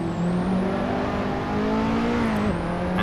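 Race car engine in Assetto Corsa, an N3 series car, droning loud and steady with rising and falling pitch as it shifts up toward sixth gear, then brakes and downshifts toward second for a left-right chicane; no talk.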